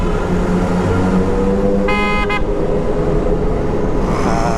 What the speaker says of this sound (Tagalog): Ginaya ko lang sila bumusina.